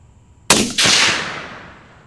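A 6mm Dasher rifle fires at an outdoor range: one loud, close, sharp blast with a second crack right after it, then a long echo that fades away over more than a second.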